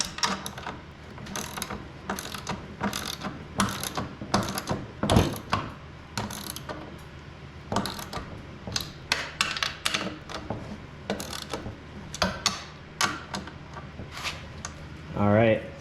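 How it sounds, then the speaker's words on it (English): A ratchet socket wrench clicks in repeated quick bursts while loosening bolts on a plastic ski of a vintage John Deere Trailfire snowmobile, close and crisp, with a person talking at times. "Alright, we'll go ahead and get a socket on those."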